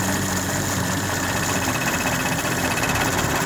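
A car engine with a distributor being turned during ignition timing adjustment, idling steadily with a constant vibrating hum and faint knocking, close to the microphone and continuous throughout.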